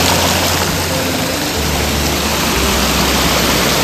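A small waterfall gives a loud, steady broadband rush of falling water that stays constant throughout, with no voices over it.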